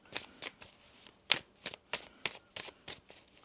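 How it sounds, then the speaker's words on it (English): Tarot cards shuffled by hand in quick, crisp riffling bursts, about nine short flutters in an uneven rhythm, close and fairly quiet, with no talk. "One more shuffle here."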